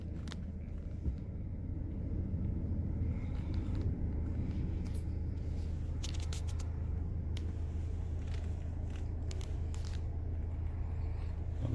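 Inside a GMC Terrain reversing while Park Assist steers itself, a low, quiet engine rumble holds steady throughout, broken by faint scattered clicks and ticks, with no one talking.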